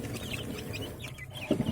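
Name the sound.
chicken clucking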